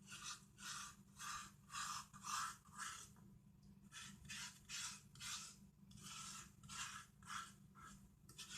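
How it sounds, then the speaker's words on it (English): Gel is scraped from a freshly harvested aloe vera leaf in a steady series of soft, wet rasping strokes, close and quiet, repeating at a regular rhythm with a brief pause partway through. "we're going to scrape it one more time"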